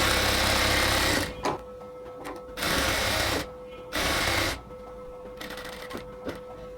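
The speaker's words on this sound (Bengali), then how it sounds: "সো আমরা হচ্ছে সাইডটাকে খুব সুন্দরভাবে সেলাই করে নিছি।" A sewing machine stitches the side seam of an XL women's top, running in steady whirring bursts of about one second each, with short pauses and a quieter hum between them.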